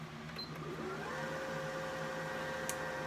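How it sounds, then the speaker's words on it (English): A sewing machine motor winds thread onto its bobbin, a steady whirring drone with a rising tonal whine that holds level throughout, close and continuous with no talking. "I'm just winding a little bit of thread on the bobbin"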